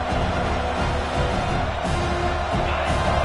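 A dense, steady roar of a large stadium crowd cheering and shouting, loud and continuous without pause.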